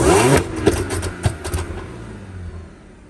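An Audi S4 B8.5 with a 034Motorsport crackle tune blips its engine, then sharp pops and crackles burst out in an irregular string that thins and fades into quiet over a few seconds.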